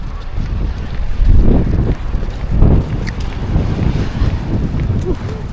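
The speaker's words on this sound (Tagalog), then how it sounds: "Sobrang hangin." Strong gusting wind buffets the microphone outdoors at a market area, a continuous low rumble that swells in bursts, with no clear talk over it.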